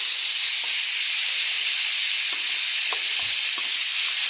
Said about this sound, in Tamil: அடுத்து இப்போ வெண்டைக்காவை போட போகிறோம்.